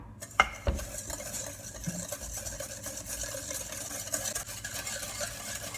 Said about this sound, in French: fouetter jusqu'à que le mélange devienne mousseux. Bien sûr avec un fouet plat.